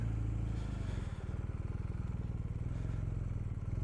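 A new 2019 BMW R1250R motorcycle rides at low speed through slow U-turns, its engine a steady close throbbing pulse with light clatter and mild revving, no talk.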